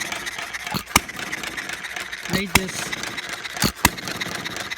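A 1/2 scale hit-and-miss model engine runs slightly rich, giving a few sharp, widely spaced firing pops over a steady mechanical clatter while someone talks close by.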